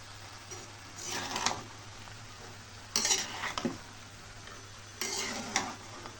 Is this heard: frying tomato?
yes